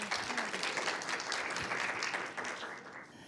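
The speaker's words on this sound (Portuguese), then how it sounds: "uma salva de palmas para os professores." Audience at a talk on curriculum integration in secondary education applauds the teachers, a steady round of clapping from a seated crowd that tapers off at the end.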